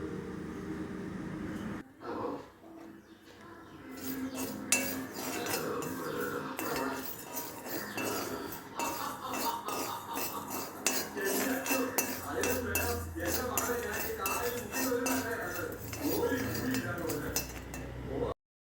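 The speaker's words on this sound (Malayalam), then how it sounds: "നാല് സ്പൂണ് കരിഞ്ജീരകം ഇട്ട് ഞാനൊന്ന് വറക്കാൻ പോവാണ്" A spoon scrapes and clinks against a pan as black cumin seeds roast, with a steady rattling stir and a low hiss underneath.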